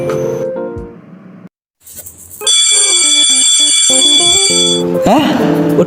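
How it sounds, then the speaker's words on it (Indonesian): An electronic school bell signals the start of class with a bright, sustained tonal chime of several seconds, loud and close, with voices heard before and after it. "Udah bel masuk."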